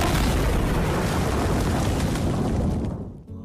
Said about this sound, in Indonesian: tembakan dari White Tiger itu hanya merusak bagian trek dari tank milik Nadenov